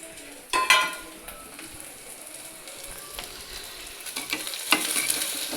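Shallots sautéing in a pan for a traditional Tamil ginger curry, with steady sizzling and a few louder scrapes and clatters of stirring spread through the clip.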